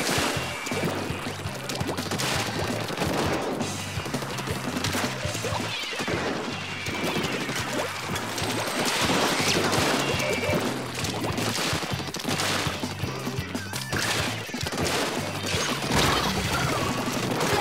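Splattering hits from ink shots land on the player in Splatoon 2 on Nintendo Switch, a dense, loud stream of wet smacks and crashes amid busy game noise, with no talk over it.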